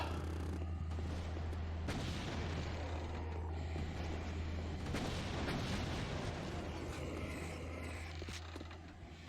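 Rocket blasts and booming explosions in Doom, a constant roar of rumbling impacts and gunfire in tight corridors, loud and dense with a low steady hum beneath.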